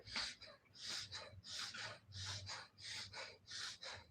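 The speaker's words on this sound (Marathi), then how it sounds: "दीर्घ श्वास घेत दीर्घ श्वास सोडत" During a yoga session, someone breathes deeply in and out, with about eight soft, rhythmic breaths at an even pace, close but very quiet and heard alone.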